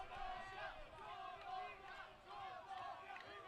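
Colombia fans in the crowd and players on the bench chant rhythmically during a men's World Lacrosse Championship game against Belgium in Netanya. The voices are faint and distant, with the chant rising and falling in repeated waves.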